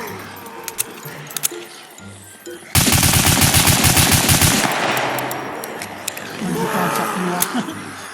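Loud sustained automatic gunfire from the SCUM video game in single-player mode, a dense rattling burst lasting a couple of seconds before trailing into quieter game ambience.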